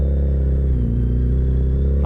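A Ford Mustang engine runs with a deep, steady low rumble that swells slightly mid-way, heard close and loud without any talking.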